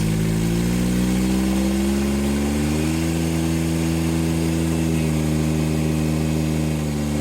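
John Deere 1025R tractor engine running steadily at high RPM during a hydraulic cooler stress test, a loud continuous drone whose pitch climbs early on and then holds steady, with no voices.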